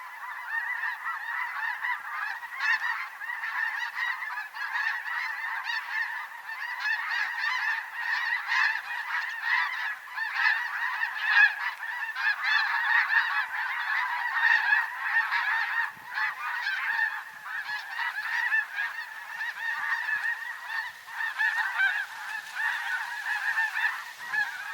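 A flock of snow geese calls in a continuous, overlapping chorus of nasal honks, moderately distant and steady for the whole stretch with no voices.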